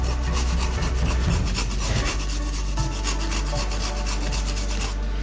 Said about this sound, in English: You grate the nutmeg.